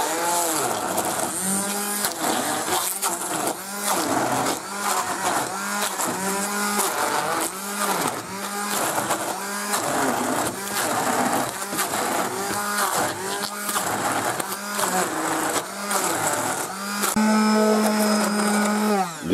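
A blender whirs continuously through seafood cream soup, a loud, close, steady motor drone with rhythmic churning pulses and no talking.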